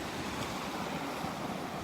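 Ocean waves wash steadily onto a beach at Delnor-Wiggins, a constant broad roar of surf mixed with wind rumble on the microphone, with no distinct breaks and no talking.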